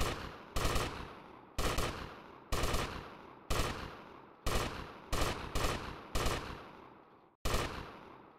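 M60 machine gun in GTA: Vice City firing about ten loud, close bursts with brief gaps between them, each crack followed by a short decaying tail, and no talking.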